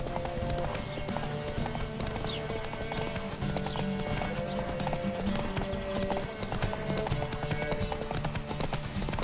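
Steady hoofbeats of a galloping horse in The Witcher 3: Wild Hunt drum on continuously, with occasional snorts and a whinny over a dense, busy background.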